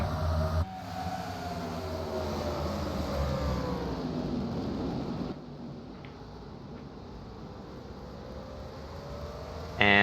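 Racing trucks from the 2009 truck series pulling away at a Sonoma restart, engines swelling in a dense roar that rises in pitch over the first seconds, then settles into a steadier, slightly quieter rumble of the pack.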